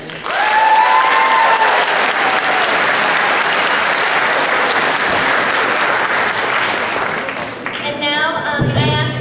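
Sustained, loud applause for Republican nominee John Chapman from a high school auditorium crowd at a congressional debate. A voice is heard briefly at the start, then the clapping stays steady and dense before fading as a voice speaks at the end.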